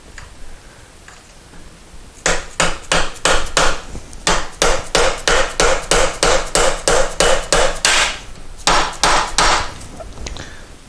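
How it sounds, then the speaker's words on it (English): A fast, steady series of loud metallic hammer strikes on a bearing driver, seating a steering bearing in a 1973 Moto Guzzi front end, about twenty in a row with a short pause near the end, up close and without talk. "Let's see if this hammer will have enough to get her in there."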